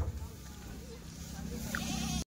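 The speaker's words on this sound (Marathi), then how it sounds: "ही एक शेळी घेतलेली आहे" A goat bleats nearby in one drawn-out call, over a steady background hum, with other noise around it.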